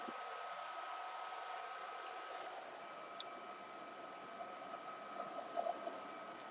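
The vacuum hold-down of a Summa F1612 flatbed cutter runs as a steady, even airy whoosh with no change in level, joined by a few faint clicks.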